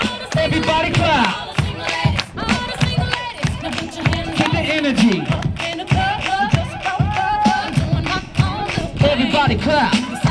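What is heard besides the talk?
crowd clapping along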